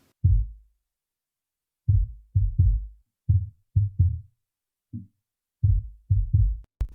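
Kick drum and sub kick layered together in an alternative rock drum mix, giving punchy, deep, booming hits in a loose repeating pattern with short silent gaps.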